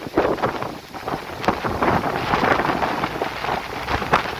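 Wind and rain at Chittar Dam 2 in Kerala, with a steady, loud rushing roar of gusts and rainfall buffeting the microphone throughout, and no talk.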